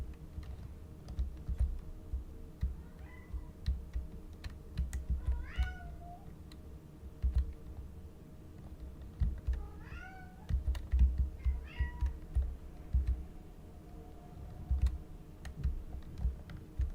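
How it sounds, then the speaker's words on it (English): A cat meows several times in a game setting, short rising calls spaced apart over steady keyboard typing and a low background hum, moderately close. "I can hear a cat calling out for attention."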